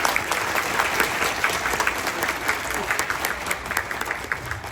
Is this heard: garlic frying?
no